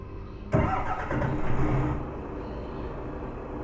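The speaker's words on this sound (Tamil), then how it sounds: "engine sound" A KSRTC bus in Euro Truck Simulator 2 cranks and fires up with a sudden burst, its engine roaring loudly for about a second and a half before settling into a steady, lower idle rumble.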